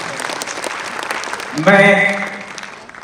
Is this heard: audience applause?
yes